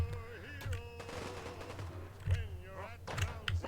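Gunfire in the Fallout 4 game rings out in rapid bursts, fairly faint and partly buried under humming music and a talking voice, with a couple of sharper shots near the end.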